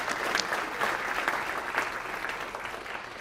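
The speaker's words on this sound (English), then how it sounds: "if you join me in a quick round of applause for them" Audience applause at a planning chapter awards ceremony during a fall conference, a steady wash of clapping from a modest crowd, even and sustained.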